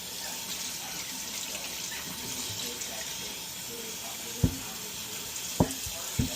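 Water runs steadily from a kitchen sink tap while dishes are washed, a continuous close hiss with a few sharp clinks of dishware toward the end.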